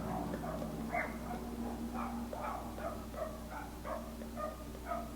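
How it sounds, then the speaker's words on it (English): Dogs at a neighboring dog park bark and yip repeatedly at a distance, the barks coming in irregular bursts over a low steady hum. "I don't know if you guys can hear those dogs outside"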